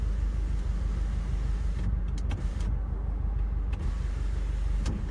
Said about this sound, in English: Oh, there's some cars coming